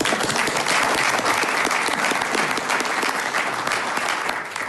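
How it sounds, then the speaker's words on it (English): An audience at a city council meeting applauds steadily, dense sustained clapping from many people that fades slightly near the end. "We can give them a round of applause."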